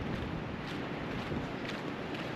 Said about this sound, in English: It's just really windy, that's all.